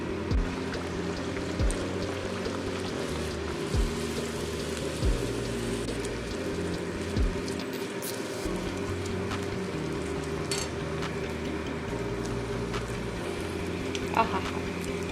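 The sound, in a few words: frying pea-stuffed kochuri in oil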